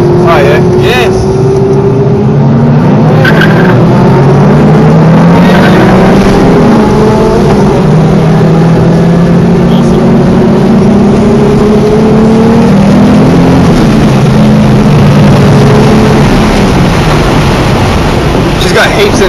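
A car engine revs hard in third gear during a Brisbane Powerplay drive, a loud sustained drone that rises and falls in pitch across the run, with people talking over it inside the cabin.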